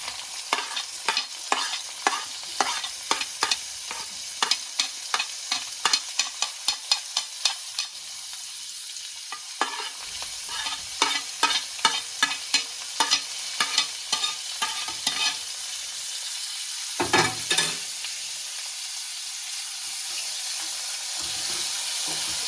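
Onion and tomato frying in oil for a wild mushroom curry in a village kitchen, a continuous sizzle broken by a long run of rhythmic spoon-against-pan scrapes and taps, close and fairly loud.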